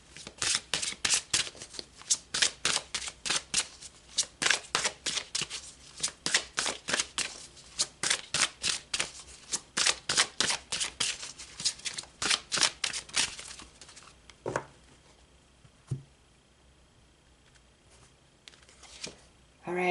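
Tarot cards are shuffled in quick riffling bursts, a rapid even patter of crisp flicks close up for several seconds before fading to a few isolated taps; no speech accompanies it.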